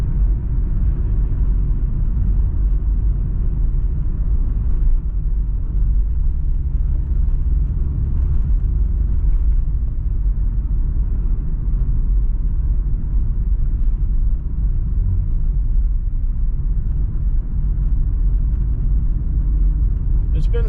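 A 2000 Subaru Impreza, a long-idle car with a worn condition, drives along the road with a steady low engine rumble and road noise filling the cabin throughout, no breaks.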